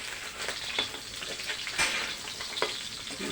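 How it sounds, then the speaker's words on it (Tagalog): Onion and garlic sautéing in a pan for pork adobo, a close, even hiss of frying oil with a few sharp stirring clicks, no voices. "medyo igisa natin ang sibuyas at bawang dito sa gitna"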